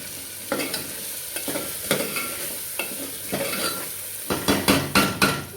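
A spoon scrapes and knocks repeatedly through green gram sabzi in a pan over a soft, steady sizzle, the stirring strokes growing quicker and sharper toward the end.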